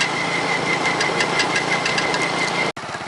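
A motorcycle engine runs steadily with a rough, knocking rhythm and constant vibration, close and loud, briefly cutting out near the end.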